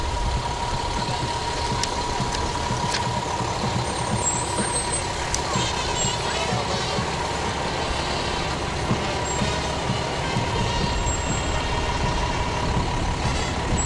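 Fire department trucks rolling past in a Fourth of July parade in Chautauqua County, a steady, loud diesel engine rumble with a faint hiss of air brakes throughout.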